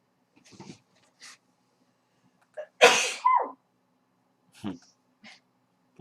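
One loud, sharp human sneeze bursts out in a quiet room, with a few faint breaths and small vocal sounds before and after it.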